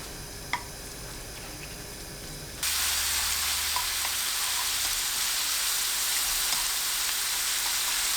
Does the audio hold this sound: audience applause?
no